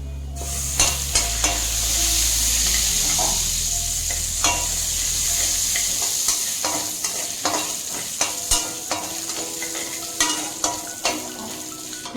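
Spices crackle and sizzle in hot oil, then a spoon scrapes and clicks against the pan in quick, repeated strokes as the sizzling continues.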